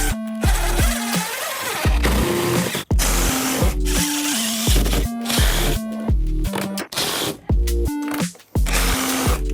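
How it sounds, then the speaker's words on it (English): A cordless impact driver drives screws into wood for a van conversion bed frame, loud stuttering bursts of hammering whir repeating one after another with brief pauses between each screw, close up and alone. "then I'm using the impact driver, and I'll go through them bit by bit"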